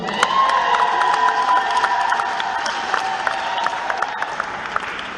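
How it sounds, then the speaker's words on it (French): A church congregation bursts into loud cheering and applause, with shouts and whoops over a sustained clapping roar that tapers off slightly. "Si vous êtes d'accord avec moi, poussez les acclamations."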